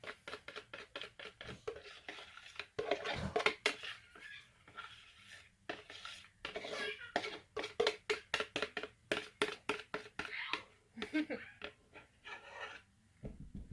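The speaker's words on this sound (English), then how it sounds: "I don't normally scrape out a bowl with a whisk, but today I do." A whisk rasps and scrapes around a bowl of soap batter in quick, irregular strokes, each one short and dry, with only brief pauses between them.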